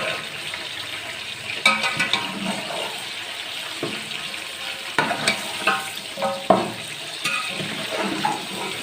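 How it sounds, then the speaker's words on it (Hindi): Beef pieces fry with onions in a pot over high heat, a steady hiss and sizzle with intermittent scraping stirs and clinks of the spoon against the pot, close and moderately loud, no talking. "अब मैं गोश्त को फ्राई करूँगी। और बिल्कुल तेज़ कर लेनी है आपने, गोश्त को अच्छे से फ्राई करना है प्याज के साथ में।"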